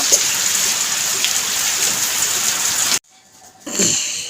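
Steady rain pours down in a domestic setting, a loud continuous hiss that cuts off abruptly near the end, followed by a brief quiet gap and then a returning wash of rain.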